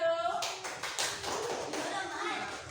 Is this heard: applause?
yes